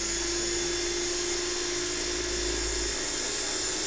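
A Group 5 proxy-series slot car motor running steadily at high speed, a continuous close whine with a slight fluctuation in pitch.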